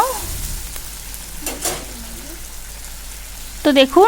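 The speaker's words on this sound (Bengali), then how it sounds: "এবার আমি একটু নেড়ে চেড়ে মশলাটাকে একটু কষিয়ে নেব।" A paste of ground ginger, poppy seeds and green chilli fries in a pan for a rohu fish posto dish. A soft sizzle runs under a few spoon scrapes, and brief speech is heard near the start and end.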